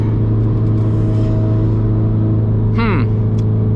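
A Porsche GT3 RS race car on the Nürburgring passes close by, a brief rising-then-falling engine sweep over the constant drone of the cabin's own engine.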